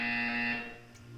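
A single buzzer tone from the video game Portal 2 sounds as a steady, harmonic electronic note, fairly loud, holding for over half a second before fading.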